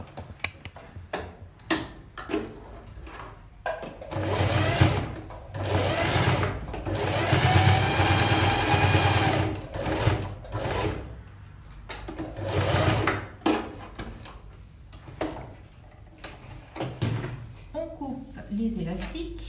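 A sewing machine stitching fabric runs in loud whirring bursts close by, stopping and restarting between stretches, with someone speaking French over and between the runs.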